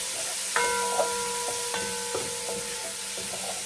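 Aromatics for Jamaican-style soy sauce chicken wings fry in a pan with a soft steady sizzle, punctuated by several light metallic clinks and taps of utensils.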